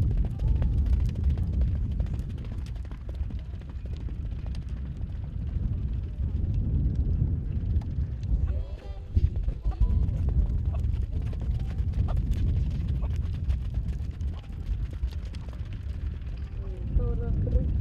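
Icelandic stallions' hooves clip-clop steadily in a rhythmic gait on the track at a stallion show, a continuous patter of footfalls beneath an announcer's voice and crowd ambience.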